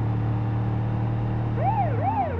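Police car siren in the video game BeamNG.drive starts up partway through, a wailing rise-and-fall tone cycling over a loud, steady engine drone, with no talk.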